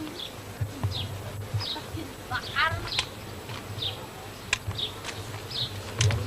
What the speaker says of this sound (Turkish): Arılarını hep çektin.